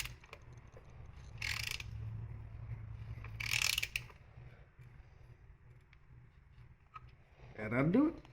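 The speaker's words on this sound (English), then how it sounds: "And then we'll put the bolt back in. And we're just going to get it a little more than hand tight" A ratchet tightens the transmission drain bolt on a 2015 Ford Escape, non-turbo, giving short bursts of clicking under a low mechanical hum, with a louder burst near the end.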